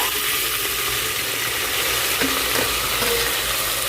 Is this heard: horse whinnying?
no